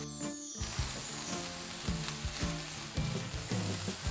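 Onions fry with adobo seasoning in a pan, giving a strong continuous sizzle broken by repeated rhythmic scrapes and stirs of a utensil, heard up close with no voices.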